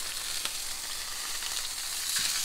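Sea bream roasting in very hot oil sizzles loudly and steadily up close, with a couple of brief soft knocks as the fish is flipped.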